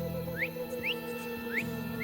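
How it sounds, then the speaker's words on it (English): Repeated rising whistles ring out inside the video game Assassin's Creed Odyssey, four short upward-sweeping calls spaced evenly over a steady hum of ambient game sound, with no talk. "That whistling really starting to piss me off!"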